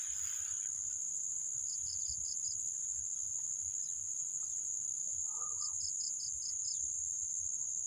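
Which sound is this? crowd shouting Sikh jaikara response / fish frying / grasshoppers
grasshoppers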